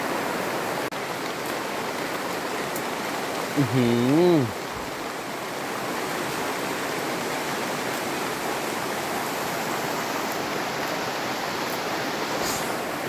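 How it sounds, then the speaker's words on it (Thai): Heavy rain pours through a hillside forest as a steady, dense hiss, with a short vocal exclamation partway through. "โอ้โหฝน"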